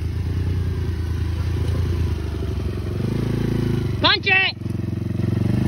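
A four-wheeler ATV engine runs steadily and close throughout, a continuous low throbbing rumble, with a voice shouting briefly over it near the end and a quick sharp rise in the motor's pitch.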